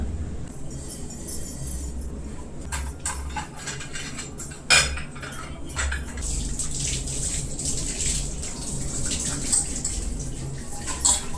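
Dishes clatter and cutlery clinks under running water, with a sharp clank midway and steady splashing throughout.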